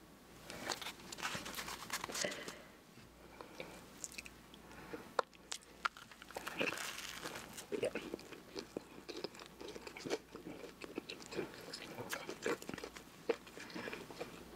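Crunchy bites and wet chewing of a Wingstop Parmesan chicken sandwich, close and fairly quiet, repeating steadily with crinkling wrapper sounds and no talking.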